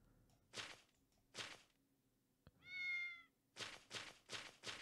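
Cat meowing in a mobile fantasy RPG game, a single drawn-out cry in the middle, between sharp louder rhythmic bursts of game effects.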